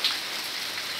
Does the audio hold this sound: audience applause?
no